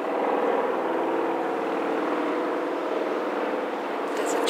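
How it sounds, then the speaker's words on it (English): A helicopter flies overhead, producing a loud, steady droning roar of rotor and engine that holds evenly for several seconds with no talk. "There's a chopper."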